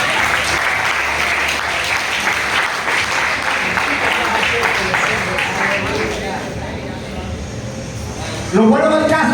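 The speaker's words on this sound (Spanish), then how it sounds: "Den un aplauso a Cristo." A church congregation gives a sustained round of applause during an evangelistic sermon, steady and close, fading slightly before a voice begins speaking at the end.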